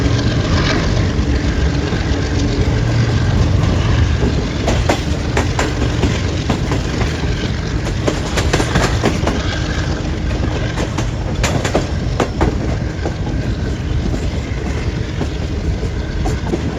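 Green Line passenger train from Lahore to Karachi, heard in a steady loud rumble with rhythmic clickety-clack of wheels over rail joints throughout, no voices.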